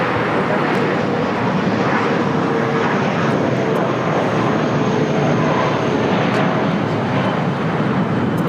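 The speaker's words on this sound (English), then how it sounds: "It's Air France Flight 22 Uniform Heavy coming in from Paris." Continuous loud jet roar of an Air France heavy airliner, arriving from Paris, landing on LAX's south side, a steady broadband rush and rumble that holds throughout.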